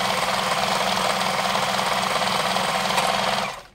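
A new domestic sewing machine runs steadily at speed, stitching a scalloped decorative pattern with a dense, continuous mechanical whir and rapid needle rhythm up close, stopping abruptly near the end.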